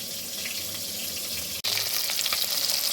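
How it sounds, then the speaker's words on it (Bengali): Fish fries in hot oil in a pan, giving a steady, close hiss and crackle that cuts out for an instant before resuming just as loud. "এই মাছটা আমার ভাজা কমপ্লিট হয়ে গেল।"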